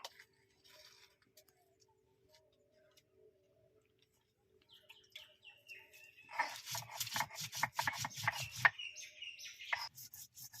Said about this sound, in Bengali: এখন আমরা সব মশলাগুলো বেটে নেব আর পেঁয়াজ আর রসুনগুলো